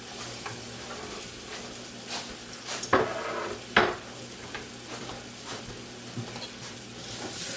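Green pepper, celery and a small yellow onion sizzling in a roux, a steady close fry with a couple of louder scraping stirs near the middle and no talking.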